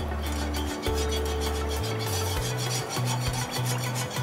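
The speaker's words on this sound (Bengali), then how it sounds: "এবং কন্টিনিউয়াসলি এটা নাড়তে হবে।" Rice flour custard with milk being stirred continuously in a pot, a steady scraping and rubbing of the spoon against the pot bottom that runs unbroken throughout, close and fairly loud, under a low steady hum.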